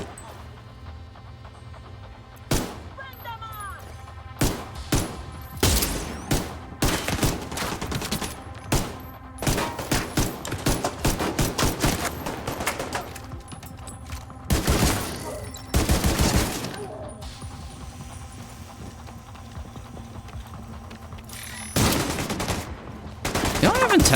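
Rapid bursts of automatic turret gunfire in The Division 2, loud and repeated in uneven volleys across the stretch, with a player's voice speaking between and over the shots.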